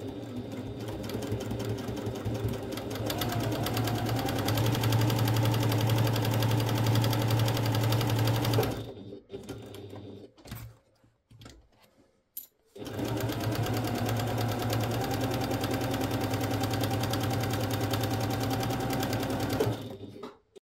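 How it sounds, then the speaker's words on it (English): A sewing machine stitches a seam on a fabric storage bag, whirring loud and steady for several seconds, halting briefly while the work is pivoted, then running on again at a constant pace. "we're going to sew down here, stop 1/4 inch before we reach the bottom, pivot and come across this way"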